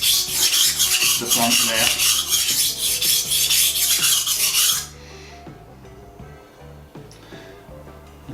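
A knife is sharpened on a whetstone worked with slurry, giving a steady, close, rhythmic rasp of repeated strokes that turns much quieter and softer partway through.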